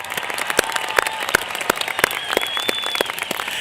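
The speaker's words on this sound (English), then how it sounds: "Give yourselves a round of applause." Applause from a graduating class at a high school commencement ceremony, a steady wash of many hands clapping with scattered sharper claps standing out, moderately loud and continuous throughout.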